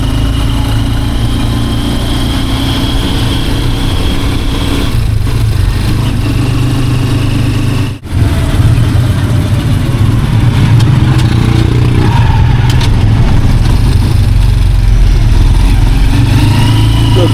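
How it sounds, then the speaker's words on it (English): A tuk-tuk engine chugs steadily during a morning ride in Puerto Princesa, Philippines, a loud, rough mid-pitched drone with rattling that holds throughout, dipping briefly once midway. "we're finally on the tuk-tuk to catch the shuttle to El Nido"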